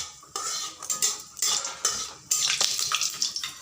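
Dried red chilli broken in two and black cumin frying in hot oil, a bright crackling sizzle with several sharp metallic scrapes and clinks of a spatula stirring in the pan, close and busy, with no talking.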